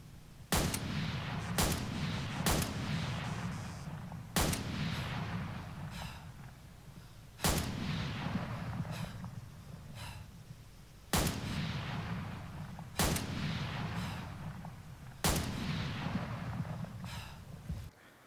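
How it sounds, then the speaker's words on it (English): Shots from an AR10 semi-automatic rifle fired at zombies in the Breaking Point video game, about nine loud single cracks at irregular intervals of one to three seconds, each leaving a rumbling decay, with no talking. "Now let's take a look at this gun in action against some zombies."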